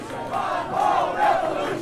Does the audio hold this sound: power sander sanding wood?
no